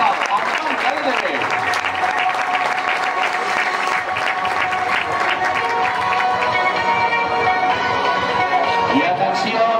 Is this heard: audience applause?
yes